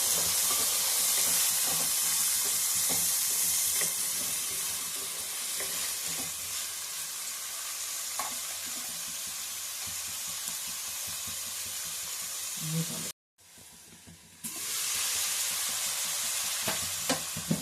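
Green peas and capsicum frying in oil in a pan, with a steady close sizzle and hiss and occasional stirring scrapes, which cut out briefly before the frying resumes, with no talking.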